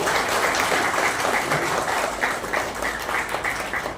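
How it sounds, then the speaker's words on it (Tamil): Steady, dense applause from a crowd at a Rotary Club installation ceremony in Palayamkottai, many hands clapping continuously and fairly loud for the whole stretch without a break. "கரகோஷம் செய்வோம்."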